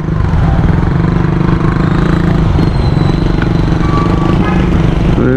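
Yamaha NMAX 155 scooter riding through a provincial town, its engine droning steadily and loudly up close with constant road and wind rumble throughout.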